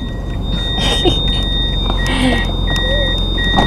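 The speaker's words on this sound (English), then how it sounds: "What Malik is doing right now is parking" A car is being parked outdoors, its engine a steady close rumble throughout, with a high continuous electronic tone and intermittent beeps like parking or reversing alerts over it.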